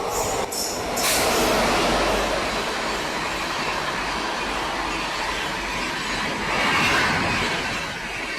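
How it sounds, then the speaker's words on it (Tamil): A train on an Erode–Palakkad MEMU route rolling into a station, a broad rumbling wash of wheels and carriage noise that swells and holds steady, with a few sharp bangs near the start and a surge again later. "ஏதோ ஒரு ட்ரெயின் வருது, என்ன ட்ரெயின்னு தெரியல."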